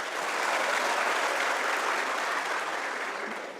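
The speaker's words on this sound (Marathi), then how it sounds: "टाळ्या काही वाजवायलेत" A crowd claps steadily at a motivational talk, with a thick, even wash of applause that swells slightly and then eases toward the end.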